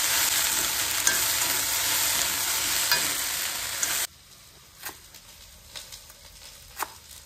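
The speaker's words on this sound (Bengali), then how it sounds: "কি সুন্দর ভেন্ডি ভাজা হচ্ছে। এবার তুমি ভালো করে ঘুটে দাও" Okra fries in a wok, a loud steady sizzle that suddenly drops away halfway, followed by quieter scattered scrapes and clinks of stirring against the pan.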